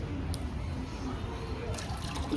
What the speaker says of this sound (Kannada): ಮೊಟ್ಟೆ ಮೇಲೆ ನೀರು ಹಾಕ್ಬಿಟ್ಲಿ ಇವಳು.